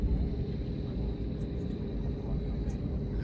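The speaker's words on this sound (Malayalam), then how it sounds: "അതൊരു ഫ്ലൈറ്റ് ഇറങ്ങി വരുന്നതാണ്." An airplane coming in to land gives a low, continuous distant rumble that stays steady throughout, with no talk over it.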